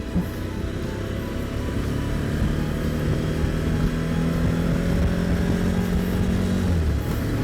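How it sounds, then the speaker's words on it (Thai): A Suzuki V-Strom 1050XT motorcycle engine runs loud and close, its steady drone rising in pitch as it pulls through a gear before the revs drop near the end. "เราจะ มา ทดสอบ ใน ส่วนของ ช่วงเกียร์ ของ เจ้าซูซูกิวีสตอม 1050 XT นะครับมาดูกันว่าช่วงเกียร์เขาเป็นอย่างไรนะครับ"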